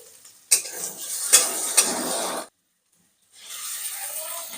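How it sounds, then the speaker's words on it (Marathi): Chopped onion sautéed in a pan for a soybean chunk curry, giving a broadband sizzle with a few stirring scrapes, then a brief pause before the frying resumes more softly. "कांदा परतून घेऊ."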